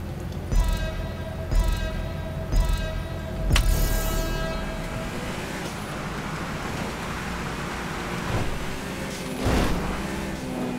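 A train rumbles past in the GTA 5 Online video game, a loud continuous roar of rolling wheels and engine with sharp clanks and a horn-like tone, heard alone with no talk.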